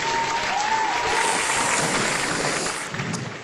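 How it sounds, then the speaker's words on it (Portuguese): Dense group applause for a participant on an educational quiz show, loud and continuous, tapering off in the final half second. "Palmas para Pablini."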